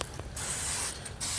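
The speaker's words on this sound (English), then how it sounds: "first thing I do, I spray this. This is just some like Pam, no name butter or whatever." Pam-style cooking spray sprayed onto a barbecue grill, a quick close hiss in short bursts lasting about a second.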